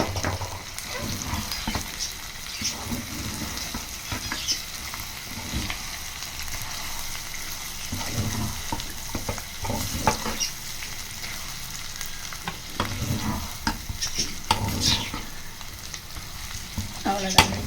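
Spicy chicken fry with chopped coriander leaves being stirred in a pan, a steady close sizzle and crackle with scraping stir strokes throughout, no talking.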